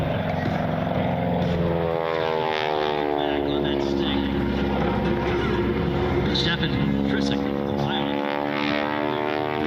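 At an air show, a propeller plane dives with a wing walker standing on the strut, its engine droning loudly and shifting in pitch as it passes, under an announcer's commentary over the loudspeakers.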